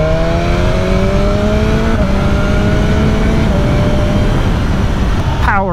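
A BMW S1000R motorcycle engine drones loud and close, its pitch climbing gradually under acceleration before a sharp rising rev at the very end.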